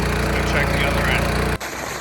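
A PowerHorse 2-inch semi trash pump engine runs loud and close with a steady buzzing drone, then its tone shifts abruptly as it begins sucking water.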